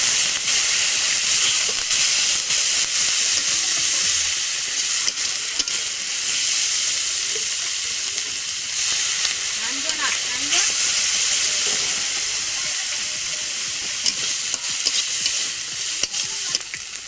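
Kuchia (mud eel) fish curry hisses and sizzles steadily in a pan after a little water is added, a dense continuous frying crackle that runs the whole time without easing off.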